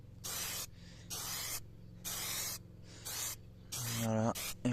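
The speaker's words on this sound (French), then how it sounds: "Et ensuite, je vaporise" Glue sprays onto fabric for a Peugeot 207 door panel in short, close hissing bursts separated by pauses, with a faint motor hum underneath and a brief tonal squeak near the end.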